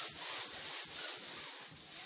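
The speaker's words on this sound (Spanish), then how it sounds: "se repasará con una lija metálica cualquier defecto o protuberancia" Metal sanding tool rubbed over the filled joints of Fermacell gypsum fibre boards during drywall installation, giving a close, rhythmic scraping rasp in repeated back-and-forth strokes, with no talking.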